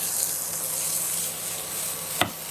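Fish goes into hot oil with roasted chili powder, giving a continuous bright sizzle and a single sharp knock near the end.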